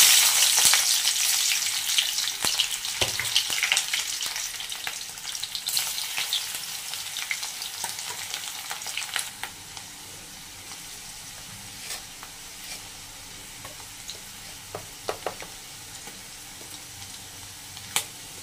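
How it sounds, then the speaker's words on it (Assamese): Onion and garlic drop into hot oil in a wok, a loud, dense sizzle at first that settles into a quieter, steady frying crackle with occasional sharp pops, no voices. "কেৰাহীত তেল দি থোৱা আছে এতিয়া পিয়াজ আৰু নহৰু দি দিম"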